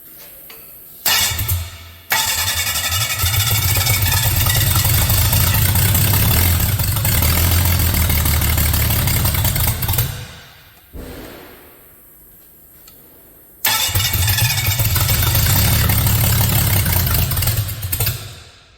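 A 3.8L engine conversion cranks briefly, catches and runs at a steady, loud idle, cuts out, then restarts and idles again before shutting off.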